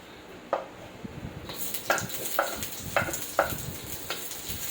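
Oil heating in a pan for a cabbage stir-fry hisses with a steady sizzle, punctuated by several sharp clinks and stirring clatters, close by with no talk.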